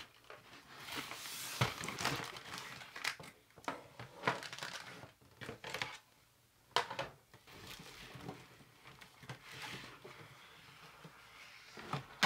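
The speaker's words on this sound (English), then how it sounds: "I want to get the scissors and open these corners." Toy packaging is cut open with scissors, giving crinkling, crunching plastic and cardboard rustles in irregular bursts with brief snips and handling knocks. The sounds are close-up and come alone, without talk, across about twelve seconds.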